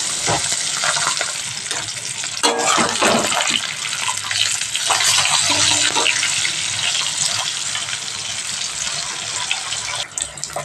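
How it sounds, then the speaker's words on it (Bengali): Continuous loud sizzling and crackling of fish frying in hot mustard oil in a wok, broad and hissy, with occasional sharper pops throughout. "মাছটা ভাজবো এবারে সর্ষের তেল দিয়ে দিলাম"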